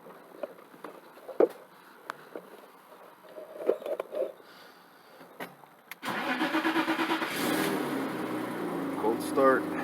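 A BMW 735i E32 is cold started: a few faint clicks and interior rustles, then the engine cranks and catches around midway and settles into a loud, steady idle up close inside the car.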